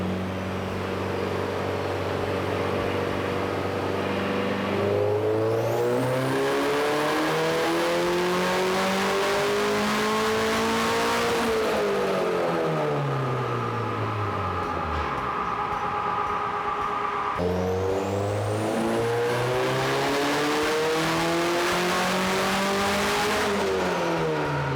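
A K24-swapped Subaru BRZ on a dyno revs hard through repeated climbing sweeps, rising, dropping back and pulling again, loud and continuous throughout with no talking.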